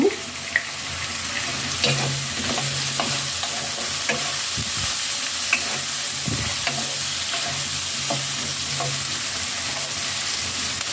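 Onion, turmeric powder and green chili fry in hot oil with a constant loud sizzle, joined by scraping and knocking of a spoon stirring the pan.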